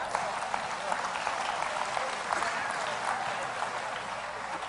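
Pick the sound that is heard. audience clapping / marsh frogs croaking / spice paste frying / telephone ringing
audience clapping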